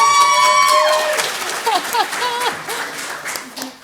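Applause with some cheering breaks out from the audience at a Pasadena ISD school board meeting, loud at first and then thinning into scattered claps and voices over a few seconds.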